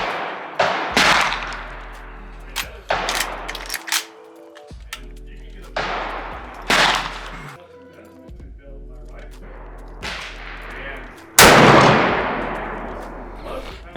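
Guns being sighted in at a shooting range fire several loud, sharp shots at uneven intervals, each with a long echoing decay, under a low steady hum and brief talk between shots.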